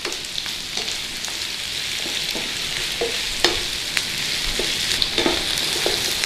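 Corned beef hash with soft potatoes, onions and garlic sizzles steadily in a pan, with scattered scraping clicks of a stirring utensil throughout, close and continuous with no voices.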